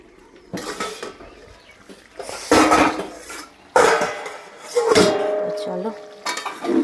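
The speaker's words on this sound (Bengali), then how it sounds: "তো চলো বাসনগুলো ধুয়ে নিক।" Dishes, pots and pans being washed by hand clank and clatter up close in repeated metallic knocks and scrapes, with a voice heard briefly.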